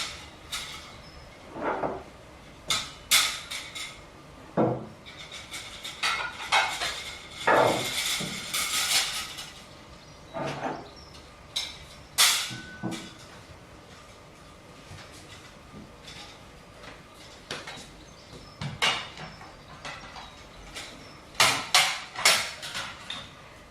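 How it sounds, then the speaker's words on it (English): Plates and cutlery being cleared from a restaurant table after the main course: scattered clinks and clatters of china and metal in irregular bursts, some close and sharp, with quieter handling in between. "So we'll just clear the mains cutlery."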